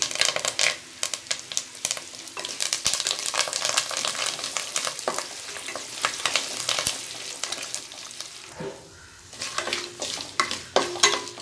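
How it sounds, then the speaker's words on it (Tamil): Curry leaves, dried red chillies and spices sizzling in oil in a pan for coconut rice, a steady crackling fry with frequent stirring scrapes and clicks of a spoon, close and alone without talk. "எல்லாம் வறுபட்டுருச்சு."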